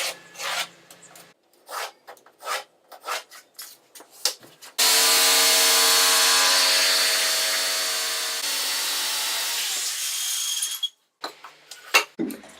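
A jigsaw cuts through a scrap wooden backer piece in one steady, loud buzzing run of about six seconds, framed by short bursts of workshop handling noise before and after.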